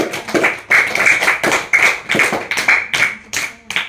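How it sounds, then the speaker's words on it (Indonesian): Children clapping in a classroom, a series of sharp, uneven bursts of handclaps with short pauses between them, close and loud, with faint voices mixed in. "Tepuk tangan untuk kita semua."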